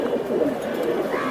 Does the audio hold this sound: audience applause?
no